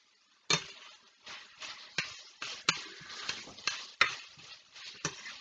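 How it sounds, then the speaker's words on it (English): Pollock fish is stirred in a pan with ketchup red sauce, giving a series of about ten irregular scraping strokes over a faint sizzle, fairly close and without talk. "And just stir."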